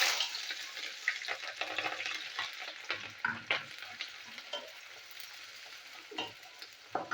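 Onion frying in oil with nigella seeds and green chilli, a steady close sizzle broken by frequent scraping stirs across the whole stretch, no voices.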